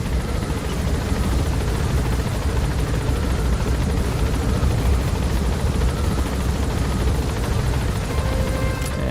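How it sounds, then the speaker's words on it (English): Helicopter in the Metal Gear Solid V video game, a loud, continuous rotor and engine rumble with heavy low thumping, steady throughout; any tape music playing is buried under the noise. "now you can hear the tape that we set earlier as our helicopter music playing through the speakers"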